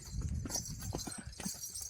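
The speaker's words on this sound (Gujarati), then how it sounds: "ઘોડીઓ લઈને નીકળ્યા છે એવી ચક્કર મારવા" Horses' hooves clip-clop steadily along a farm road in a village in the early morning, a quick rhythmic trot close by, fairly faint, with no talk.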